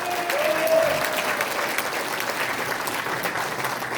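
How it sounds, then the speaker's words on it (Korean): A crowd at a Korean lawmaker's 2024 constituency report meeting in Daejeon gives warm, dense applause, steady and sustained for the whole stretch, with a brief voice over the start. "여러분 뜨거운 격려의 박수 보내주십시오"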